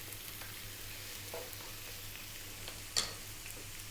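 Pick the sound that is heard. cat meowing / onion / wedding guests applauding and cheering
onion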